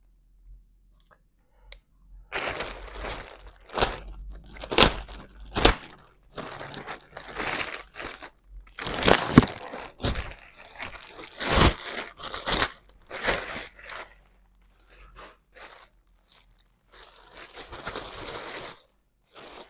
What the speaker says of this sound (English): we're going to unbox or unwrap this so that we will see what is inside